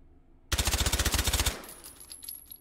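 Full-auto Glock 22 in .40 Smith & Wesson, with stock and suppressor, in the VR shooter H3VR: a single loud, rapid burst of about a dozen evenly spaced shots lasting around a second, then quiet clinks and faint rattles.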